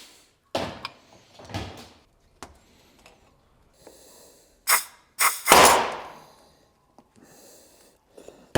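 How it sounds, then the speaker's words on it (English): Compressed air forces the pistons out of a BMW E39 530i Touring brake caliper in loud sudden blasts and pops, several short bursts separated by quiet gaps, the final blast longest and strongest. "Now we're gonna pop the pistons. Compressed air."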